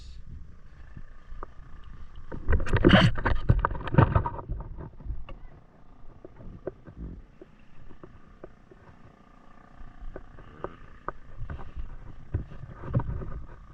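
A fishing boat being pushed out onto the water, with a burst of sloshing and scraping early on, then quieter lapping and knocks against a low rumble.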